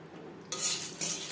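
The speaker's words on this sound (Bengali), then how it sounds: "এক চামচ গোলমরিচ লো ফ্লেমে তিন চার মিনিট নাড়াচাড়া করে নেব" Black peppercorns stirred in a pan over low flame, quiet at first, then two bursts of dry scraping and rattling as a spoon pushes them around; short and close.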